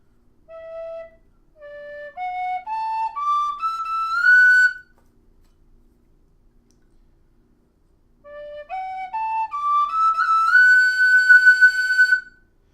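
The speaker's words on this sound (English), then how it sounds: "If you compare that to the regular Dixon whistle" A Dixon tin whistle plays two rising runs of clear, bright notes stepping upward in pitch, each phrase lasting about four seconds, separated by a few seconds of silence, close and solo.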